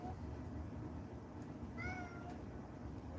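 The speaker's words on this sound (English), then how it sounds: "Cat's back." A house cat gives a single short meow mid-clip over a steady indoor hum, fairly faint and slightly distant.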